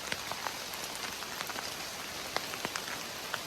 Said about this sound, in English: Got some ramen noodles going here, but we're getting rained on.